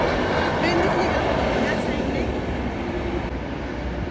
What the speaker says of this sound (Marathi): ट्रेन दिसते का मागे